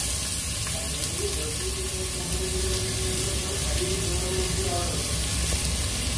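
Finely chopped onions hitting oil for a mutton curry give a steady, close frying hiss with crackle throughout, plus a faint intermittent tone in the background.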